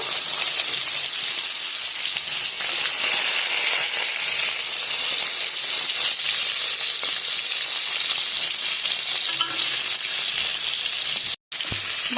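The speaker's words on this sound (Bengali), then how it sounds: "মাছগুলো একটু লাল লাল করে ভেজে নিয়ে আসি" Fish sizzles and crackles in hot oil, a loud, continuous frying hiss with one brief cut near the end.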